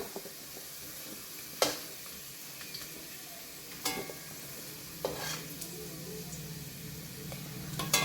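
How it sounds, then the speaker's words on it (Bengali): Potatoes frying in oil in a pan, a soft steady sizzle underneath with a few sharp clinks and scrapes of a spatula stirring, close by and fairly quiet. "আলুটা ভাজা হয়ে গেছে এবার আলুটা তুলে নেব"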